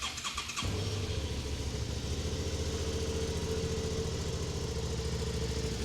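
A Suzuki V-Strom 650 two-cylinder motorcycle engine from 2017 catches and settles into a steady, close idle with an even low throbbing pulse that continues unbroken for several seconds.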